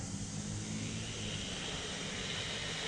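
A Hosim X06 brushed 1/10-scale RC truck runs flat out at full throttle, its motor and drivetrain giving a steady, loud, unbroken whirring roar throughout with no talk.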